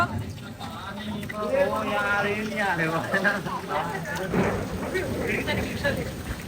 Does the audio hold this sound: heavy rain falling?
yes